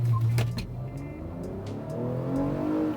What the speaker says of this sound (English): A quick acceleration test.